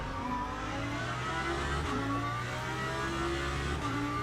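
A hypercar races around Sebring in the Le Mans Ultimate racing game, its engine giving a steady, droning roar with shifting pitch as it holds speed, no voices.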